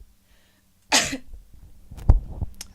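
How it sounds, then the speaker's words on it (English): A person coughs up phlegm close by, with one harsh throat-clearing burst followed by a few thick, wet coughs after a brief silent start. "I need to cough up some phlegm"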